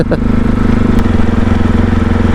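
A CSC RX4 450 big single-cylinder motorcycle runs close by with a loud, steady, thumping exhaust note that holds throughout without pause.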